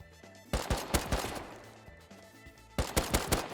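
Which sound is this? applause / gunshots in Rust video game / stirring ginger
gunshots in Rust video game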